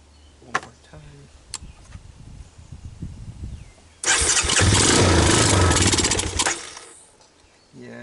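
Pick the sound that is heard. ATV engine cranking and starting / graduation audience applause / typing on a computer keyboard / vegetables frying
ATV engine cranking and starting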